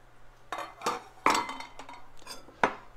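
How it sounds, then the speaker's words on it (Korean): Cooked Samyang ramen goes into prepared bowls with several sharp clinks and knocks of dishes and utensils, close and distinct against a quiet background hum. "준비한 그릇에 라면을 넣도록 하겠습니다."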